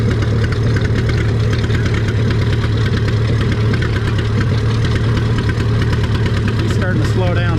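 A John Deere 70 tractor engine roars at full load during a tractor pull, a loud, continuous, throbbing drone with steady low pulsing, heard at middle distance and unbroken.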